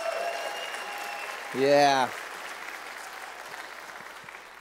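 A church congregation claps for a woman during a service, a steady wash of applause with one voice shouting out loud partway through.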